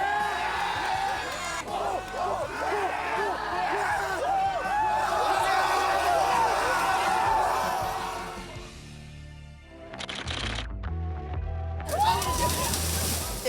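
Naval Academy trainees doing early-morning exercises in the surf, a steady sloshing and splashing of many bodies in water with shouts and group voices throughout, briefly dropping before a final burst of splashing.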